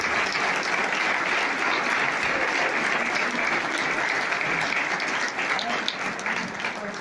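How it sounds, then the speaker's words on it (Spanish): Sustained, dense applause from an audience greeting council candidates at a PAN party candidate presentation, steady clapping for several seconds with a faint crowd murmur. "se pongan de pie para darles un caluroso aplauso a todos ellos"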